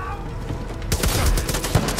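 Gunfire in the video game Far Cry 5, a dense burst of rapid shots breaking in suddenly after a quieter stretch, loud and close with rattling automatic fire.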